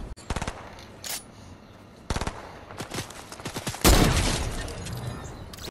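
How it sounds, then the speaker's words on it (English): Rapid bursts of gunfire from Deadpool's dual pistols in a multiplayer shooter game, with several close, loud volleys followed by a sustained heavy barrage near the end. "Kill them. They've got Deadpool's dual pistols."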